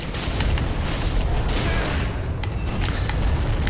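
Continuous rumbling explosions and bursts in the video game Dark Souls 3, Ashes of Ariandel DLC, roll together into a dense, steady roar, with no pauses and no voices.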